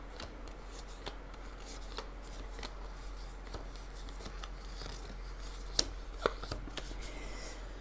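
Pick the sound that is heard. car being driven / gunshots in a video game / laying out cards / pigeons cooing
laying out cards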